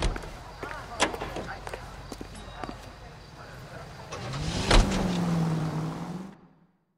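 Car in the LA Noire game, 1940s Los Angeles setting, heard first as scattered clicks and knocks under faint background, then an engine starts and revs for about two seconds before cutting off.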